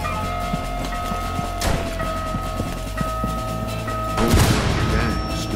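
Gunfire in the shooter game Rainbow Six Siege during a Wild West showdown event: a couple of sharp shots cut through a constant background of music and game noise, with a heavier burst near the end.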